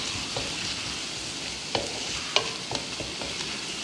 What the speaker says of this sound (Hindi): मिक्स करेंगे अच्छे तरीके से